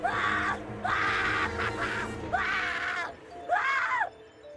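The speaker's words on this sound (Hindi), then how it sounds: "उन दोनों की चीखें और बढ़ने लगी।" Two people scream in a dramatized Hindi horror audio story, a series of long anguished wails rising and falling in about four drawn-out bursts, close and loud with no talk over them.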